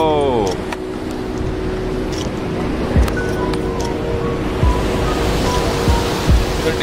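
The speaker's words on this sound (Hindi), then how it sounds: "ठंडी हवा चल रही है।" Cold wind blows across Katora Lake near Jahazbanda in Upper Dir, Pakistan, as a steady broadband rush with a low hum and a few soft thumps throughout.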